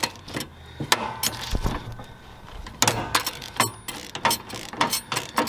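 A wrench loosens a nut on a Hustler zero-turn mower, with sharp metallic ratcheting clicks and clanks in irregular bursts, close and fairly loud, with no talking.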